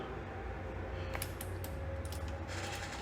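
Keys clack on a computer keyboard while a document is edited in Google Docs, giving a few quiet, scattered taps over a steady low background hum with no talking.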